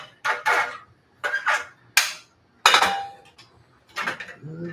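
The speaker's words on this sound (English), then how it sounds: "I'm going to take my hex-clad pan here" A HexClad pan is picked up and set down, giving a series of loud metallic clanks and knocks in separate bursts with short quiet gaps, close by and without talk.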